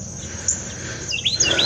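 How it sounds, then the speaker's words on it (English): A Carolina Wren sings in a backyard on a damp morning, giving a few short, high chirping notes that come quicker toward the end over a low steady background hum. "Carolina Wren. I'll verify that later."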